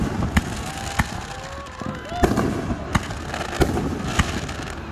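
Fireworks at a show in Boxholm, Iowa, a series of sharp booming bursts at irregular intervals with whistling rockets rising between them, heard from a distance over faint crowd noise and voices.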